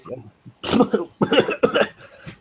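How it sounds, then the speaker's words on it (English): A rough fit of repeated, harsh coughs in quick clusters, loud and close, with short pauses between bursts. "Sorry, I had a bit of a coughing fit there."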